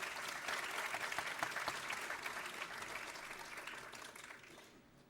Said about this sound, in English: a huge round of applause for Miss Darcey Redman